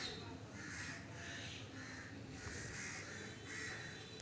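Crows cawing repeatedly outdoors at a large monkey nearby, harsh calls in a steady rhythm of about one per half-second, moderately distant over a hissy background.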